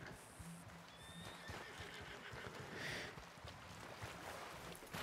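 A horse whinnies and its hooves clop in the Red Dead Redemption II video game, heard faintly over a steady game ambience with scattered movement sounds and no clear talking.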